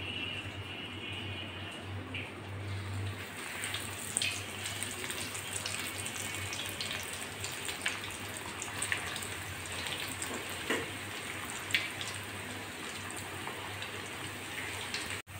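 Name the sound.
potato snacks frying in oil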